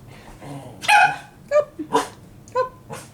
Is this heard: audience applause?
no